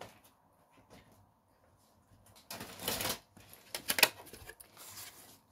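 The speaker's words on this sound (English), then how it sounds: "Trimmer." A paper trimmer slicing through card, with a few quiet handling taps first, then a louder rasping cut and a sharp snap up close, with no voices.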